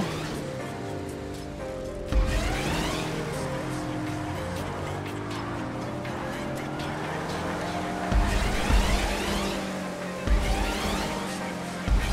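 A drift car in a video game, engine droning and revving continuously with sharp bursts and screeching tire sounds at intervals, loud and close.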